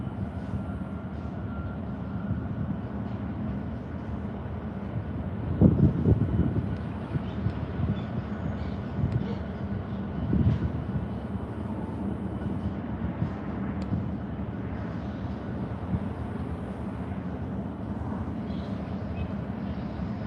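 A steady low rumble of a freight train rolling past, continuous and fairly loud, with a heavier surge partway through and no voices.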